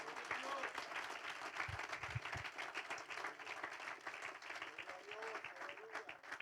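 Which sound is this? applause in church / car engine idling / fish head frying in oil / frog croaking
applause in church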